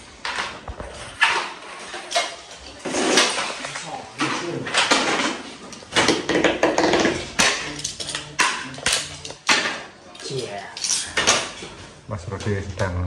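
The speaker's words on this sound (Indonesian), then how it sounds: "Memotong PVC." PVC ceiling panels being cut during a plafond installation in a house, giving a run of scraping, clattering strokes with sharp knocks, close and fairly loud, while people talk now and then.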